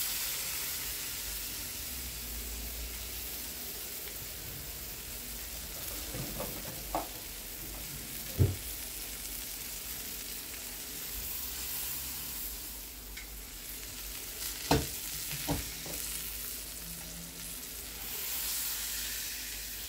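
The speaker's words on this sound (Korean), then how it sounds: "그리고 양갈비를 넣고 골고루 색을 내줍니다" A coffee-crusted rack of lamb sears in a hot pan with a steady, fairly quiet sizzle. A few soft clicks and taps come from the meat being moved about.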